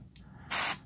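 A Harder and Steenbeck airbrush sprays paint at close range. A very short puff of hiss comes first, then a louder, steady burst of sharp hissing lasts about a quarter second against a faint low background hum.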